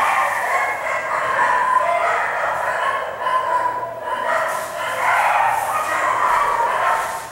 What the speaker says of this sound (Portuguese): Aqui tem muito cachorro.